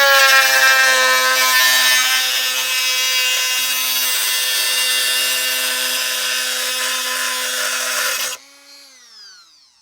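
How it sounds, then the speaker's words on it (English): Dremel rotary tool cutting plastic clone trooper armor, a loud steady high whine lasting about eight seconds before it cuts off and spins down, with no talk. "I'm just going to be doing a Dremel"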